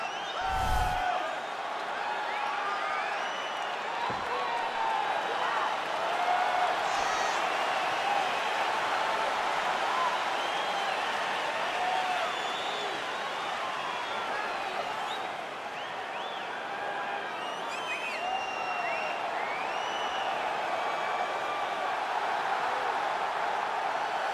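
A sold-out arena crowd in UFC 4 at a flyweight championship fight, a steady roar of cheering and whoops that holds for the whole stretch, with a couple of sharp thumps near the start.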